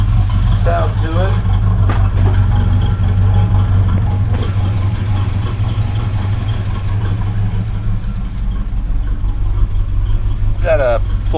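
A 1978 Datsun King Cab pickup fitted with a Buick V6 engine idles at about 800 RPM, a loud, steady, close rumble that continues under a voice.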